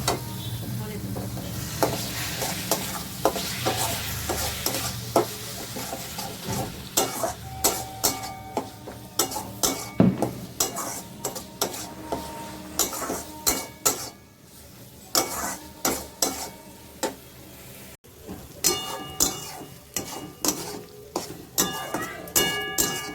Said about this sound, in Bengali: এবার এইটা দিয়ে, মশলাটা দিয়ে আমি একটু ভালো করে কষে দেবো।